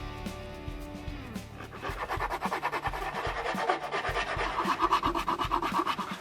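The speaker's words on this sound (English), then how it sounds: "the bulk of the rough shaping on the outside with the rasp" A rasp files the outside of a wooden spoon held on a lathe. A steady rhythmic rubbing grates in quick strokes, close and moderately loud, after a brief lower hum at the start.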